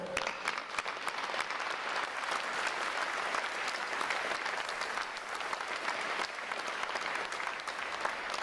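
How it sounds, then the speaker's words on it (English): An audience at a Navy ROTC graduation ceremony applauds steadily, a dense, sustained patter of many hands clapping at a moderate distance for several seconds without pause. "let's please give our family, friends, and loved ones a round of applause for their support"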